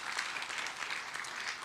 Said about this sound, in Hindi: जोरदार तालियां हो जाए इनके लिए भी,